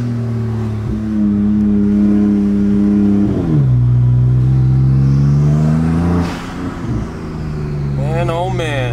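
A 1200hp Porsche 911 Turbo S engine revs hard while driving, a loud close roar climbing through gears with a drop at each shift, ending in rising whines as it accelerates again.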